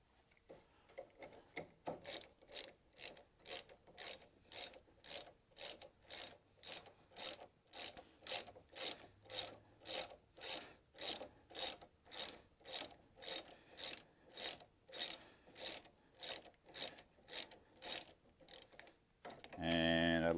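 A ratchet wrench tightens bolts while servicing hydraulic brakes, clicking in a steady, evenly spaced series of sharp ticks for about twenty seconds, close and fairly quiet with no talking.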